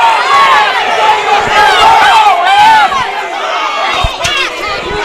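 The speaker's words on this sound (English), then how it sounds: "You hear the crowd going nuts." Crowd at a high school varsity football game roars and yells loudly after a face mask call, a dense sustained cheer with scattered shouts that eases slightly toward the end.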